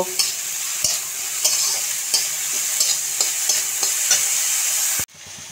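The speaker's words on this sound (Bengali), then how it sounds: "এই বাঁধাকপি গাজরের কুচিগুলো এবার কড়াইয়ের মধ্যে দিয়ে আমি একটু ভাজা ভাজা করে নেব।" Chopped cabbage and carrot fry in a hot wok (kadai) for veg momo soup, a steady high sizzle broken by regular scraping stir strokes, close and fairly loud, with no talking, then it cuts off abruptly near the end.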